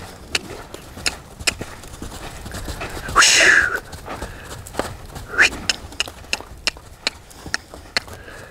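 A young horse lopes around a round pen, its hoofbeats landing in a steady, regular rhythm of soft thuds at moderate distance, with a brief whistle-like sound partway through.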